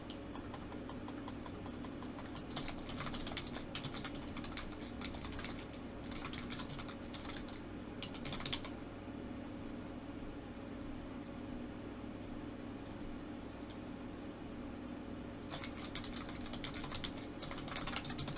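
Fingers type on a computer keyboard in quiet bursts of rapid clicks, pausing for several seconds before resuming, over a faint steady background hum.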